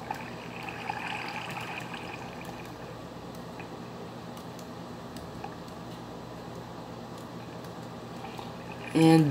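Water trickles and flows continuously in Minecraft caves, a steady, fairly faint liquid wash that stays even throughout, with a brief louder burst at the very end.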